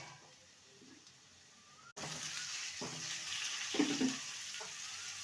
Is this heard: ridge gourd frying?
yes